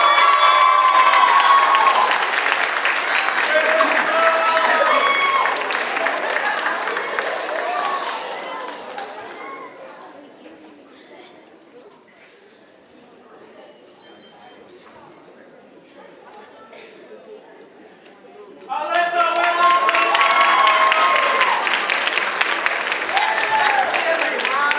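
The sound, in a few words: audience applause at nursing pinning ceremony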